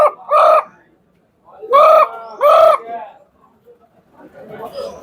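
Three loud, harsh caws in imitation of a crow come from a voice close by, one then two in quick succession, followed by faint murmuring voices.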